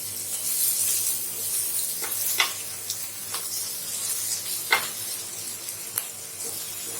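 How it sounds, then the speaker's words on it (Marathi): A capsicum omelette sizzling in an oiled pan as it is flipped, with a soft continuous sizzle broken by several sharp spatula taps and scrapes. "आता याची पलटी करून ती बाजू पण शेकून घेऊया।"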